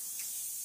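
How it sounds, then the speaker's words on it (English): Cooking spray hisses from a can onto a pan in one continuous close, bright burst lasting under a second, with no speech. "spray my pan so it won't stick."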